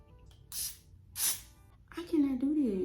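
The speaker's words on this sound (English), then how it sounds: "I need to spray this side back down cause it lifted" Hairspray hisses onto a wig fitted over a bald cap in two short, close bursts about half a second apart. A voice then starts talking.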